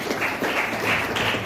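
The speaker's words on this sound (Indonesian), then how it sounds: "Tepuk tangan dong teman-teman" Students clapping together in a university lecture hall, a steady dense patter of applause heard close and continuous throughout.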